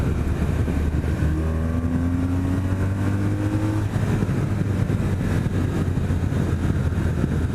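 A sport-touring motorcycle cruising in third gear on winding mountain roads, its engine a loud steady drone with a rising pitch under throttle and wind rush, no speech.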